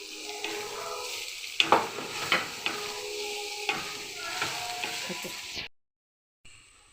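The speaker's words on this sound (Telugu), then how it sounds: "వేగుతున్నాయి ఉల్లిపాయలు." Onions and green chillies fry in hot oil in a pan, an even sizzle with scattered spatula taps and scrapes that cuts off abruptly near the end before a short faint return.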